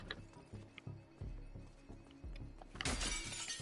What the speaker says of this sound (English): Look, like you break the glass.